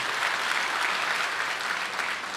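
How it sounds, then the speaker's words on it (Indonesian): Steady applause from a large church congregation, a dense wash of clapping that holds evenly throughout with no voices standing out. "Tepuk tangan buat jemaat di tempat ini."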